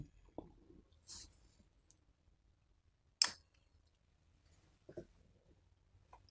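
A Xiaomi Redmi 9 front camera shutter fires once, a short crisp click standing alone amid faint handling taps and room quiet.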